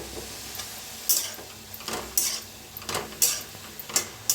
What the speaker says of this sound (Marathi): आता मुळे शेंगात ना तेल ओतून भाजून घेऊया।